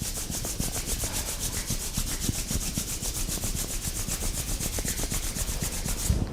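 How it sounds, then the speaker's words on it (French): Hands briskly rubbing over the body in a qigong self-massage, a fast continuous swishing friction with a steady back-and-forth rhythm, close and moderately quiet, no talking. "Et à nouveau, on secoue et on frotte."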